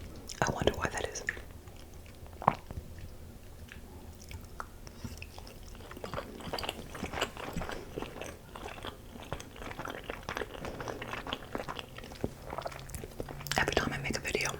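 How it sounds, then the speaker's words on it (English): Close, crunchy chewing of Christmas-shaped pasta, irregular crisp bites and mouth sounds that grow louder toward the end, with soft whispered talk between bites. "I'm gonna slow down my chewing"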